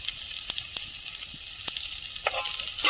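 Pennywort leaves fry in a pan with a constant, hissing sizzle, broken by a few brief clicks and utensil taps, close by and without speech.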